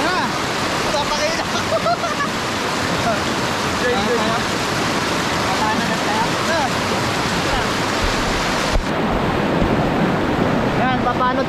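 Rushing river water roars loudly and continuously close by, a dense broadband wash with wind buffeting the microphone.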